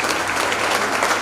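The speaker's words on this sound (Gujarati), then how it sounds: "ખૂબ જોરદાર તાળીઓ થઈ જાય" An audience at a school campus gathering breaks into loud, dense applause, steady hand-clapping filling the space with no talk over it.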